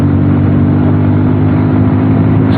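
A Bajaj Pulsar 150 Twin Disc motorcycle engine revs loud and close, a steady dense whir held without letup and with no voices.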